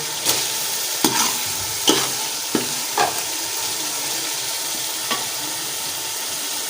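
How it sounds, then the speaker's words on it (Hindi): Vegetables such as carrots, cauliflower and potatoes are added to a hot pan with peas for a mixed vegetable dish, giving a steady sizzle with several sharp stirring scrapes and clatters spaced about a second apart, close and alone. "बाकी अभी हम बाकी सब्जियां वो ऐड कर देते हैं"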